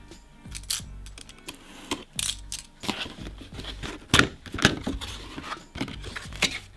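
A Pullip doll being unboxed, with close crinkling of plastic and cardboard packaging, sharp tearing bursts and small clicks and taps arriving in irregular clusters, with no talk.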